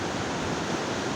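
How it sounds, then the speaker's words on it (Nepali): The Suligad river, flowing down from Phoksundo in Dolpa, Nepal, gives a dense, steady roar of rushing water, loud and close, with no other sounds over it. "सेफोक्सुन्डोबाट आएको सुलीगढ खोला हो।"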